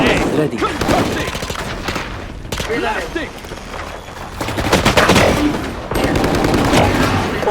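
Rapid gunfire from a shooter video game, dense bursts of automatic shots and volleys running nearly nonstop, loud and close, with excited voices talking over the shooting throughout.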